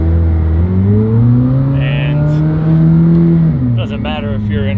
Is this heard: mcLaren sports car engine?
yes